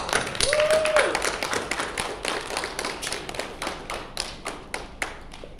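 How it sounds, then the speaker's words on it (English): Scattered clapping from an audience at a steel pan unveiling event, starting as a dense patter and thinning into separate claps over several seconds, with a brief tonal whistle-like sound near the start. "Round of applause."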